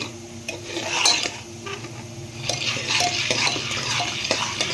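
Corn kernels are stirred in a pressure cooker for homemade popcorn, a soft sizzle under repeated metallic scrapes and clinks of a spoon against the pot, with no popping yet.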